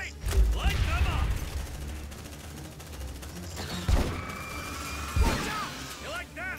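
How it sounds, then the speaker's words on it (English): Automatic sentry gun opening fire in the sci-fi game Aliens: Dark Descent, a loud burst of rapid gunfire with sharp booming shots and crashes amid combat noise, while soldiers shout callouts over it. "Deploying sentry gun!"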